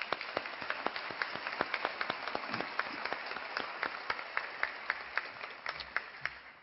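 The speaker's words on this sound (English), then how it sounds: "Give yourselves a round of applause." Law school graduates at a commencement ceremony clap steadily, with sharp individual claps standing out over a continuous wash of applause that holds at an even level throughout.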